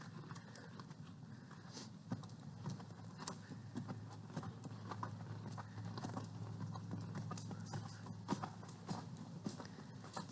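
Horse hooves clip-clop steadily at a walk as the animal is ridden around a ranch, the rhythmic hoofbeats close and continuous with faint background noise and no talk.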